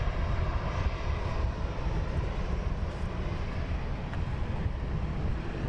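A jet airliner taxis on the ground at London Luton Airport, its steady, broad engine roar holding at a constant level throughout, with no speech.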